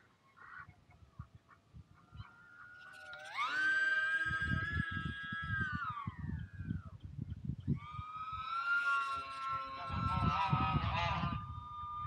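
Geese honking nearby in a long series of loud, drawn-out nasal calls that rise and fall, with a quieter stretch between two bursts and a faint background clatter.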